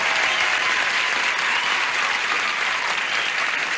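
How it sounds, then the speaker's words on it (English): A television game show studio audience applauds contestants with dense, steady clapping that is loud and continuous throughout. "Now, would you applaud Carolyn Watson, Byron Gunther, please?"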